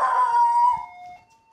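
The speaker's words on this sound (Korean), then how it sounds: "짖어볼래?" A pet dog lets out a single drawn-out howl, loud and close, trailing off into a thin whine over about a second, with no talk.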